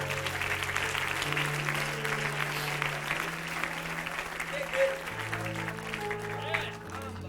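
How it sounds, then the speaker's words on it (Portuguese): Church congregation applauding at the close of a Portuguese-language worship service, a steady wash of clapping across the whole stretch with sustained organ or keyboard notes underneath and a few scattered voices. "podem aplaudir ao Senhor"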